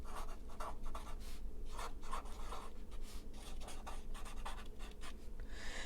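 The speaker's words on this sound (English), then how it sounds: "now we're going to write this down" A pen scratches out notes by hand on paper during a card-folio craft project, with close, soft, uneven strokes continuing throughout with brief pauses.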